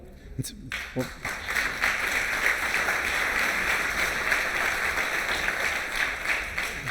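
Audience applause at a fireside chat, a thick, sustained wash of clapping from a room that rises quickly after a brief spoken moment and stays fairly loud and even.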